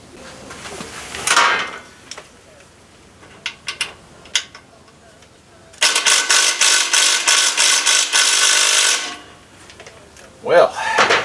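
A ratchet works on the muffler bracket bolts of a 2018 Harley Softail Fat Bob, with a few scattered clicks, then about three seconds of rapid continuous ratcheting, then a short final burst.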